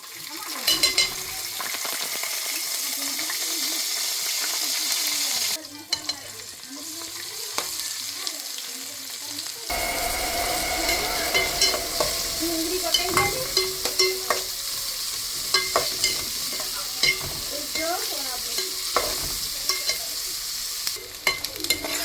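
Vaghar tempering with asafoetida sizzling in hot oil for Rajasthani dal, a loud steady crackle through most of the stretch with stirring clatter on top and a brief quieter patch midway.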